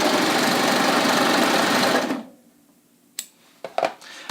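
Sewing machine stitching the hem of jeans, a loud fast continuous whir that stops after two seconds, followed by a few light clicks and taps.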